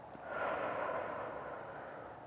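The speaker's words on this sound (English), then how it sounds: "One last time, breathe in. Hold. Breathe out." A slow breath taken during a guided breathing exercise, one long airy exhale swelling then fading, close and soft with no talk.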